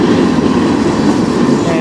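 Steady, loud rumble of a passing manifest freight train hauled by six CN, KCS and BNSF locomotives on the Strathroy Subdivision, heard close by with no break in the noise.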